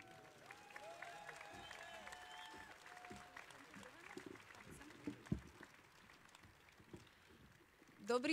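A crowd at a political rally in Bratislava claps to welcome a speaker onstage: sustained, dense applause that holds steady for several seconds, with a few louder claps near the end.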